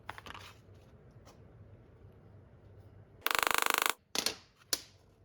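A socket being struck like a punch to cut custom car gaskets out of gasket material: a sharp burst of rapid metallic rattling, followed by two or three separate loud knocks.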